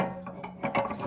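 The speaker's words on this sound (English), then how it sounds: "Putting these on, clamping them down." Log clamps on a Wood-Mizer sawmill are pulled down onto a log with a short, close burst of ratcheting, grinding mechanical clicks that lasts about a second.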